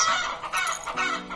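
Clucking of chickens and a rooster from the Hearthlands video game: a busy cluster of overlapping fowl calls, fairly close and steady, with no talking.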